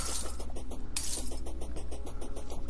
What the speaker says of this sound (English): nothing like the sound of glass breaking.